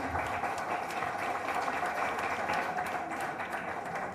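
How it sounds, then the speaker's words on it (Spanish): Steady applause from an audience greeting a course participant receiving a certificate at a Papiamentu heritage event, a dense even patter of many hands held at constant level throughout. "Um aplauso para o cursista aqui."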